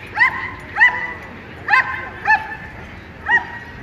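A dog at an outdoor lure-chasing event gives five short, high yips spaced about a second apart, fairly close over low background noise.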